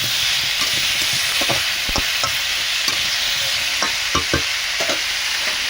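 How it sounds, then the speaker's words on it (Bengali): Raw banana and koi fish sizzle steadily in hot oil with turmeric, a dense continuous frying hiss broken by occasional sharp clicks and scrapes of stirring, close and loud with no talk. "হলুদ গুঁড়ো, ভালোভাবে ঢাকনা চাপে চাপে কিছুক্ষণ কষে নিতে হবে।"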